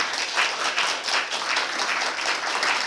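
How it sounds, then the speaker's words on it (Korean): A crowd at a Buddhist graduate school entrance ceremony applauds loudly and continuously, a thick wash of clapping with slight swells in intensity. "여러분들 박수 한번 크게 하세요"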